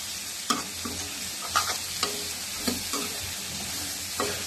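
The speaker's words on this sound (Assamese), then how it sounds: "কবিও দি দিলে, আকৌ কবি দি ভাজিছো এবাৰ দেই।" Cabbage and chana stirring in a hot pan, with a soft steady sizzle and a handful of sharp spatula scrapes spaced a second or so apart, close and moderately quiet, no talking.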